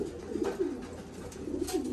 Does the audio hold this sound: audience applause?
no